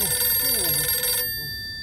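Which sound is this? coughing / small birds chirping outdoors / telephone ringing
telephone ringing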